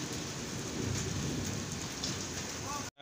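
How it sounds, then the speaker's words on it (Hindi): Steady rain falls outside, a dense continuous hiss of drops on surfaces with a low rumbling undertone, heard close and fairly loud throughout before cutting off abruptly near the end. "बारिश हो रही है"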